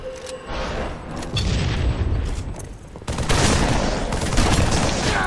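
Shotgun blasts and a dense gunfight rattle through a first-person shooter video game, with loud booming shots and chaotic bursts of fire that swell louder partway through.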